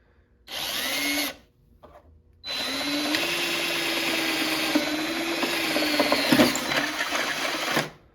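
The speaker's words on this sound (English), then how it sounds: "take my 3/16 bit, go ahead and drill a little hole in the first one" A power drill fitted with a 3/16 bit bores a hole into the track of a 2003 Yamaha Viper 700 snowmobile: a short whining burst, a brief pause, then a longer steady high-pitched run that stops abruptly.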